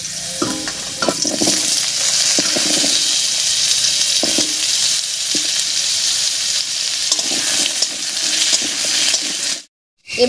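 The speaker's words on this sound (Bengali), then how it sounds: "এই তেলের মধ্যে পেঁপেটাও হালকা করে ভেজে নেব।" Papaya pieces fry in mustard oil in a wok, giving a loud, continuous sizzle broken by clinks and scrapes of stirring, until a short silence near the end.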